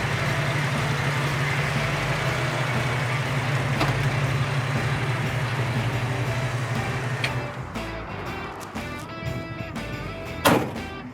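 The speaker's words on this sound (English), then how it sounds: "Engine runs really nice and smooth." A 1968 Ford Bronco engine idles steadily with a smooth low hum and a constant rumbling drone that eases off near the end, where a brief sharper knock stands out; no voices.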